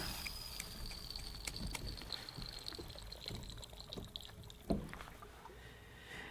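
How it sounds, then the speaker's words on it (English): Water surging underwater through a hose into an evacuated vacuum flask, a faint muffled rush with scattered bubbling gurgles and one sharper pop near the end. "the water rushed in, and also there was an awful lot of bubbling going on"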